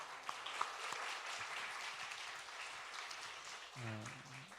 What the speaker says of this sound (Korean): 하나님께 박수를